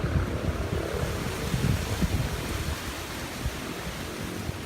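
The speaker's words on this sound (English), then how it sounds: "the wind is picking up" Wind gusting outdoors in an orchid garden in Monteverde, a steady broadband roar with buffeting rumble against the microphone, loudest at first and easing slightly, no talking.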